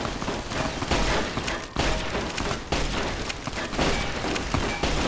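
A dense volley of gunfire from a video game, rapid overlapping shots and bursts rattling continuously, loud and close with no pauses and no talk.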